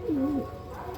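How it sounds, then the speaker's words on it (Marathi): A pigeon gives a single low, rolling coo close by, a brief throaty warble that fades into a quiet background hum. "कबूतर"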